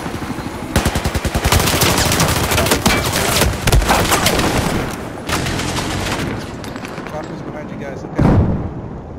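Rapid bursts of automatic gunfire in the video game Battlefield 4, loud and dense, rattling almost continuously with sharper single shots and a heavy blast near the end, with voices talking over the shooting.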